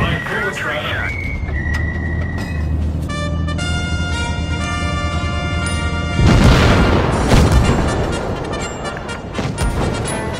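Tank main gun fire in a comedic war skit where the commander yells for the gunner to shoot back at enemy armor, a heavy boom landing near the six-second mark over a constant mechanical drone, with music and voices around it.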